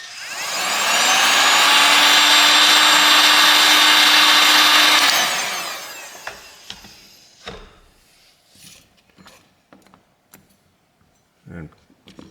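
A handheld heat tool warms the ear speaker of a Motorola Moto G Stylus 5G (2025) phone during a teardown, a steady loud blowing hiss for about five seconds that cuts off, followed by faint scattered clicks and handling taps.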